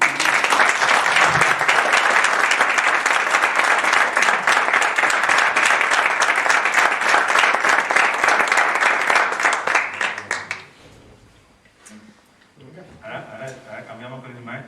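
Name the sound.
audience applause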